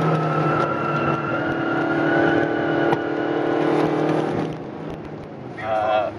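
Racing motorcycle at the Motorland circuit, loud and close, its engine note dropping as it shifts down through the gears from fifth to second, with steady harmonic drone that fades near the end.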